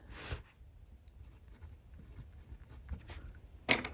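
A pen scratches out a short phrase on paper in soft, close strokes with small pauses between words, ending with a sharper final stroke.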